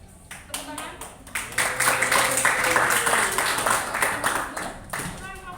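A classroom of students claps for a group, the clapping building after a brief pause and holding as a moderately loud, uneven patter, with voices and a teacher's talk mixed in.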